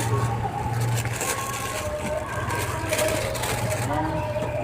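Road traffic passing on a busy street, a continuous engine hum with horn-like tones and passing vehicles, fairly close, with faint voices now and then.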